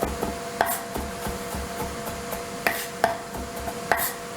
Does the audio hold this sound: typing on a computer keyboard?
no